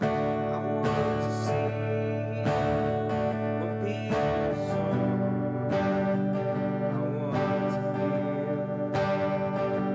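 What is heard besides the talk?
acoustic guitar strumming verse chords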